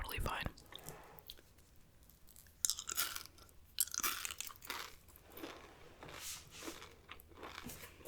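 Two pieces of bubblegum-flavored Pür gum chewed close to the mic, with soft wet smacks and crunchy bites in an irregular rhythm, quiet and intimate, mixed with faint whispering.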